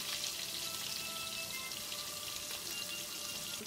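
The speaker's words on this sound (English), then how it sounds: "it's frying very nicely." Shark pieces fry in hot oil with a steady, dense sizzle and crackle, close up and continuous, with no talking.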